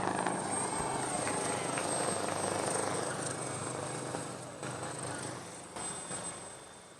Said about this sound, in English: the helicopter came at the right time, and they had drowned his voice